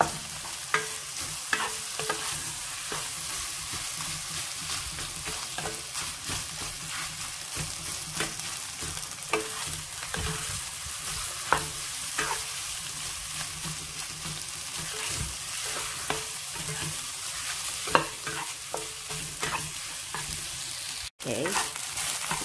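Fried rice being stir-fried in a pan: a steady close sizzle runs throughout, broken by frequent scraping and clicking strokes of the spatula, with no talking.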